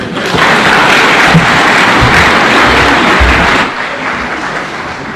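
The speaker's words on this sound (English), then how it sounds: "Another round of applause for all the leaders who have spoken." Loud, dense applause from a large audience at a political launch event after leaders' speeches, sustained for several seconds before tapering off, with a few low thumps.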